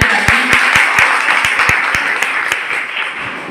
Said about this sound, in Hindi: चलिए एक बार अपने लिए एक बार ताली बजा लें